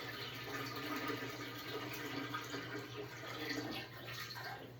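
Liquid poured into a camper travel trailer toilet in a steady, close stream that keeps running for the whole stretch, with no talking over it.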